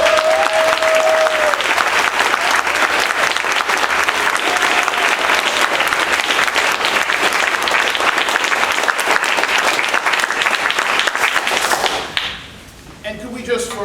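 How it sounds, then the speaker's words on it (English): Sustained audience applause at an evening gathering, loud and steady for about twelve seconds before abruptly thinning out into scattered claps and a few murmuring voices. "Can we give Mrs. Young, Mr. Hayward, and Joshua another round of applause?"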